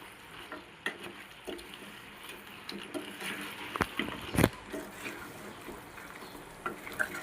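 A spoon stirs spicy goat head curry in a pot, with wet scraping, scattered clinks and one loud knock against the pot midway.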